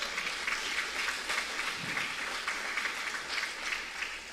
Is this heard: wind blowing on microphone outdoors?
no